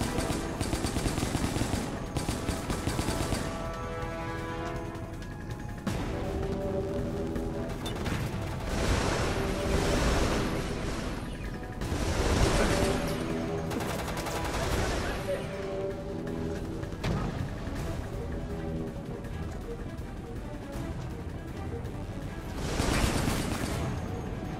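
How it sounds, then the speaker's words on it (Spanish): Turrets firing in Resident Evil: Operation Raccoon City, a dense, continuous stream of loud automatic shots with repeated heavier bursts roughly every few seconds, layered over other game noise throughout. "Sí me siguen disparando las torretas"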